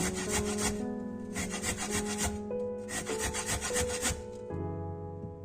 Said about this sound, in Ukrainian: Тож я це зроблю на терку.